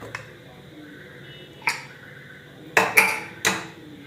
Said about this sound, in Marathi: आता आपण झाकण काढून बघूया.